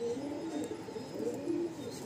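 A male Mundi Sada pigeon gives soft, continuous throaty cooing, faint and close, with no other sounds.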